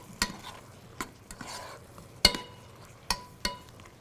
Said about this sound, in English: with your tomatoes and your mushrooms, you just want to stir them down